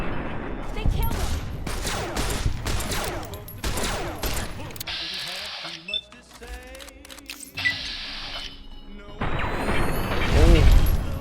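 Gunfire in the video game Fallout: New Vegas comes as several loud, sharp shots in quick bursts, mixed with mechanical clicks and game effects, with a voice talking at times.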